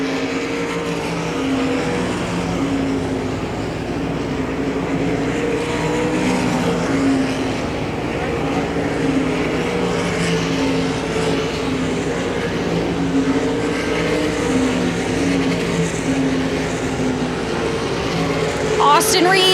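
Race cars running a B main at Hagerstown Speedway, a dirt oval, produce a continuous droning engine roar from the field lapping the track. Steady and loud, with an announcer's voice calling the race over it throughout.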